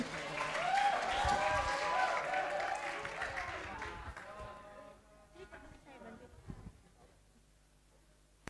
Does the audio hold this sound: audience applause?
yes